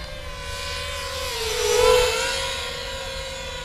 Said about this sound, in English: Can you do a flyby sort of close to us? Just a nice straight run.